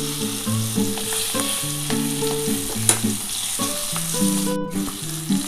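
Ground ginger and green chili paste sizzles steadily in a hot pan for a Bengali vegetarian bean and potato curry, a loud, continuous frying hiss under soft tonal background music.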